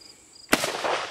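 A single sharp outdoor gunshot from an SKS rifle cracks out, followed by a rolling echo that decays across the surroundings.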